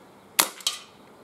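A Webley 2.5 inch CO2 air revolver fires with a sharp, dry crack, followed a split second later by a second, softer snap, heard close up in otherwise quiet surroundings.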